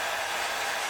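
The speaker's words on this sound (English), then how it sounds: "I need to dry my hair as well." A hair dryer blows steadily and loudly while drying hair, a continuous broadband rush of air with no pauses or talk.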